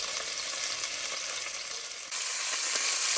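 Beef chunks salted with Himalayan salt sear in a hot pan for birria tacos, giving a steady, close, loud sizzle and crackle that swells louder partway through, with no voices.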